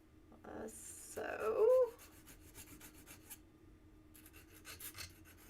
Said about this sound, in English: then we're going to file this. Pretty straightforward, just like so, until you are happy